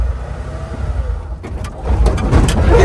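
A car engine in a vehicle with a manual transmission rumbles at idle, then swells into a louder, rising rev for the last second or so.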